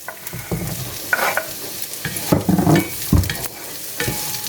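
Onions sautéing in oil in a pan for chicken afritada, a steady sizzle with several bursts of louder frying and stirring scrapes; no one speaks.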